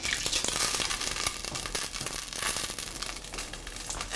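Hot oil sizzles and crackles steadily in a cooking pot on a gas flame while curried goat is being prepared, a dense, close hiss with no talking.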